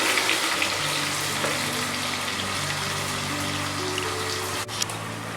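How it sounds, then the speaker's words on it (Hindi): Onions frying in hot oil in a pot for a qorma, giving a steady broadband hiss with a faint low hum, continuous throughout and fairly close, with no talking. "जब तेल गरम हो जाए तो उसमें प्याज डालनी है और उसमें लाइट ब्राउन करना है।"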